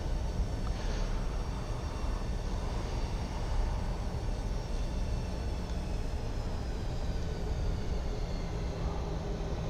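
An airliner in a flight simulator game lands at Orange County with a steady, broad engine and rolling roar. The roar holds even and continuous the whole way, at moderate level, with no talk over it.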